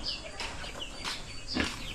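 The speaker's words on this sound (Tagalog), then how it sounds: "Dami ng manok oh. Malalaki." Large chickens on a farm clucking at close range, several short calls spread across a couple of seconds with no talk over them.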